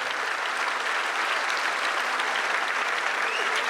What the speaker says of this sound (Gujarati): એકવાર ખૂબ જોરદાર તાળીઓ આપણા ગુજરાત માટે હોવી જોઈએ